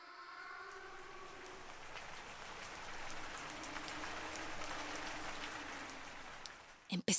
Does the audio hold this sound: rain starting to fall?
yes